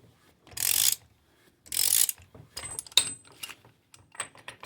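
A ratchet wrench backing a nut off a Polaris Sportsman 500 ATV ball joint, heard as two longer bursts of rapid close clicking followed by shorter, choppier ratcheting strokes and metallic clinks.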